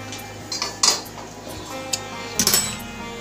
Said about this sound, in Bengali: তো চলো ডালটা নামিয়ে নিই,